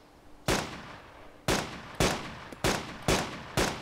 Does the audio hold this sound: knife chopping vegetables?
no